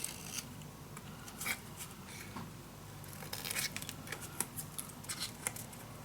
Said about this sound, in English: Each time I'm just going to cut the same angle off.